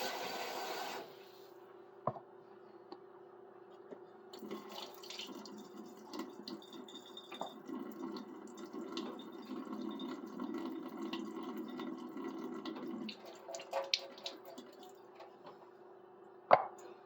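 Water drains and trickles through a strainer as starchy rinse water is poured off rice, a steady wet rush with scattered drips and a few sharp clinks, nearby and moderately loud, no talking.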